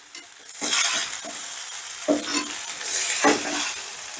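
A spoon scrapes through cooked vegetable pulao rice in a pot with the gas turned off. A few rough, close stirring strokes come in distinct bursts over a quieter background.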